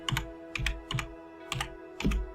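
Short runs of paired clicks on a computer keyboard, about five quick bursts at a steady pace, close and moderately loud over a faint steady hum, with no talk.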